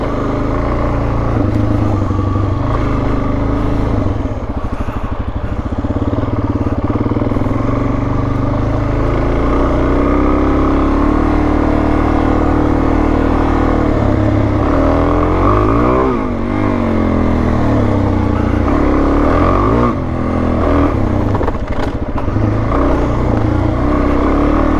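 Suzuki motorcycle engine running steadily, a loud continuous mid-pitched drone with rises and falls in revs over about twenty-five seconds, close by with no talk.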